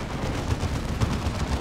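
Side cannons firing in Dawn of War 2, a steady stream of low, rumbling booms and crackling impacts blending into continuous battle noise without distinct pauses.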